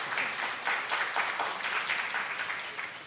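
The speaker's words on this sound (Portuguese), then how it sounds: "Além da salva de palmas à Verônica, também peço uma salva de palmas" Audience applause at a folklore communication event honoring award recipients, a steady wash of many hands clapping throughout, moderately loud and continuous with no speech over it.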